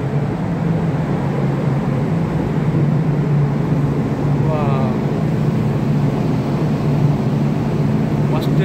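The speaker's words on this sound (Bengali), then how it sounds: "বাইরে খুবই শব্দ, এই যে এটা ইঞ্জিন এক্সস্ট তো এখানে কাছাকাছি" Engine exhaust of the cargo ship Angel 2 on deck at Port Walcott, Australia, a loud, steady low roar and rumble droning without pause, with a voice faintly audible beneath it.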